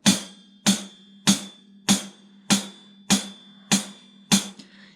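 A closed hi-hat on a drum kit, the pedal-operated pair of cymbals held shut, tapped eight times at an even pace, each hit crisp and short with a quick decay, close and clear.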